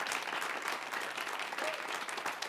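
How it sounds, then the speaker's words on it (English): A live audience at a cabaret venue claps and cheers in a continuous, even burst of applause, moderately close and with no speech. "Huge round of applause, please,"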